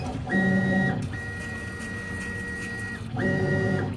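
A Thunder Nova24 laser cutter head travels around its frame trace, giving a steady mechanical whir with tonal motor whines that rise and fall at the start and end of the moves, heard alone and fairly close.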